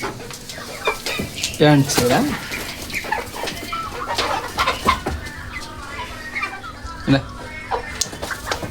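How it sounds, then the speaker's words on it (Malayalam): Chicks cluck and cheep in short bursts while feeding through the grill of a coop, close by, with someone talking over them. "കോഴിക്കുട്ടന്മാർ ഫുഡ് കഴിക്കുന്നത്"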